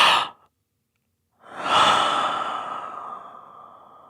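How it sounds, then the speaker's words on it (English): Human breath as a film sound: a short exhale, a brief silence, then a long, loud, close inhalation that eases into a sighing release, heard alone. "it's clearly identified as human breath."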